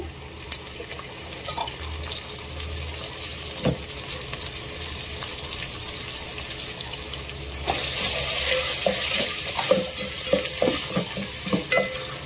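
Ginger garlic paste frying in oil with tomato and onion for a cucumber mutton curry, a continuous sizzle with scattered spatula scrapes that grow busier and louder partway through.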